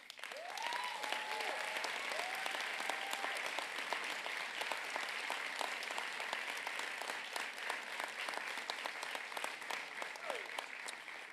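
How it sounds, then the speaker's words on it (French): Sustained applause from a graduation ceremony audience at Collège Boréal's Sudbury campus, steady and dense throughout, with a brief whistle-like tone near the start. "je vous invite à donner une bonne main d'applaudissement aux personnes qui ont donné de leur temps et énergie"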